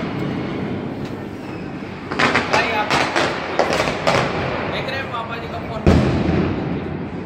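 Firecrackers burst outdoors during Diwali celebrations, a cluster of sharp loud cracks and pops in quick succession with one more bang near the end, heard over background chatter and crowd noise.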